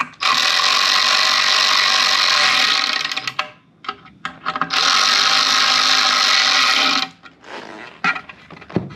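A power driver tightens screws into the plastic rear fender of a Komoto X1500 electric snow scooter, giving two close, loud whirring runs of about three seconds each, separated by brief clicks and handling sounds.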